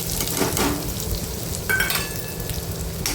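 Finely chopped onion sizzles in a pan with garlic and oil, a soft steady crackle with light stirring scrapes, moderately close and without speech.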